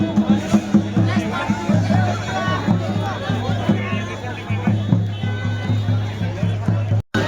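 Crowd babble at the Janda Devi fair, a village mela in Uttarakhand, with many overlapping voices and a steady low hum, continuous and fairly close, cut by a brief dropout near the end.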